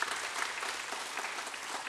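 A congregation applauds at a Friday prayer service in a church, dense, even clapping from many hands filling the whole stretch without pause.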